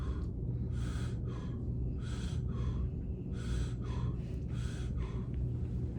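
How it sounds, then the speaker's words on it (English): A patient draws deep breaths in and out during a chest examination in a trauma assessment, with repeated audible inhalations and exhalations over a steady low background rumble, close and moderately loud, with no talking. "Can you take a deep breath in for me?"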